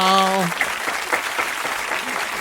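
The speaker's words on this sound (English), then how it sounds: "let's give him a round of applause" Audience applause on a comedy show, a steady dense clapping wash lasting the whole moment, starting over a short held voice tone at the very beginning.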